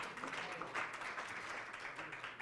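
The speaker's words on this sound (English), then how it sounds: "And so applause to those folks." Conference audience applauding at a moderate, steady level, a dense wash of clapping that holds for a couple of seconds, with a faint voice mixed in underneath.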